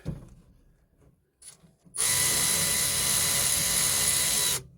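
Cordless impact tool running on the bolts of a vehicle's old exhaust manifold, a loud continuous whirring hammer buzz lasting nearly three seconds after some quiet clunks and handling.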